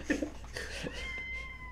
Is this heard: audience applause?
no